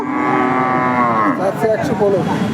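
A dairy cow with her calf moos loudly and close by at a cattle market, one long drawn-out call that breaks into shorter lowing sounds.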